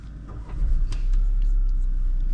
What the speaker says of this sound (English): There's another Taos that just passed by.